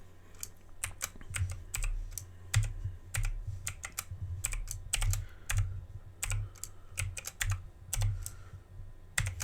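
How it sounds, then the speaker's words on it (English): Keys clatter on a computer keyboard as a Wi-Fi password is typed in, a steady run of close, crisp clicks in irregular bursts over a low background hum. "I hope I typed that in right."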